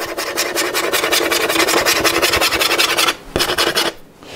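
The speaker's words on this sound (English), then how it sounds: "if you listen to the scratch tone like this" Rapid rasping scratches on the wooden body of a violin in a violinmaker's workshop, a dense rhythmic scraping that stops briefly, resumes, then ends.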